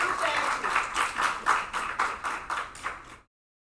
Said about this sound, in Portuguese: Uma salva de palmas para o professor Vitor Leonardo.